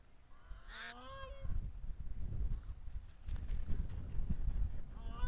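Geese honk with harsh, nasal calls near water, a close burst early on, then fainter calls over a steady splashing, rushing noise.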